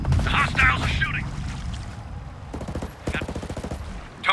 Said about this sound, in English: Hostiles are shooting.